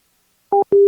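Phone line tone after a call is hung up: two short electronic beeps, the second longer, close and clear with no voices.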